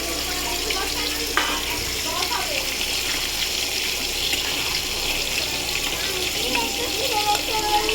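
Fried pointed gourd (potol) added to a pan of cooking prawn curry, with a steady sizzle and watery frying hiss running evenly throughout, under faint intermittent stirring noises.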